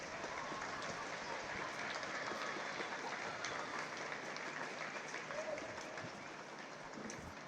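Sustained applause from an audience at a U21 senior championship final trophy presentation, a dense, even clatter of clapping heard at a moderate distance and fading slightly toward the end.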